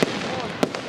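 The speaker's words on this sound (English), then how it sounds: "Making me miss the fireworks." Fireworks burst in two sharp, loud cracks less than a second apart over a constant background wash of outdoor crowd noise.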